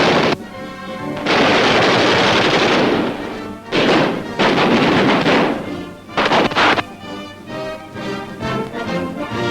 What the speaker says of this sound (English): Manning a .50 caliber gun, he will soon be in action against the enemy.